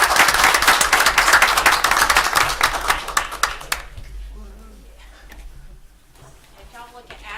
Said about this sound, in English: Let's give this group a round of applause.